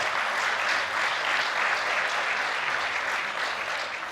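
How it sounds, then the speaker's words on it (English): A conference of New Jersey mayors applauds a woman honored for her work, a dense, steady round of clapping from a large hall audience that holds at full strength throughout. "let's give her a round of applause"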